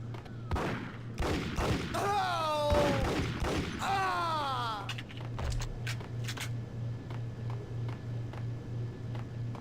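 Gunfire in the PS2 video game Max Payne: a rapid volley of shots, with whooshing effects and a pulsing electronic hum underneath, followed by scattered fainter pops as the shooting dies away.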